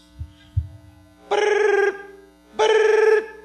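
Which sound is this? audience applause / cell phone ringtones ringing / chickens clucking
cell phone ringtones ringing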